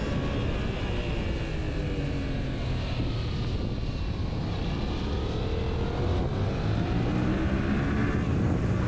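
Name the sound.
Yamaha MT-07 2021 motorcycle accelerating while riding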